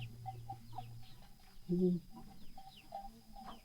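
Chickens being fed rice in a riverside village cluck softly in short, scattered bursts nearby, with one louder call in the middle and a brief murmured voice amid the quiet.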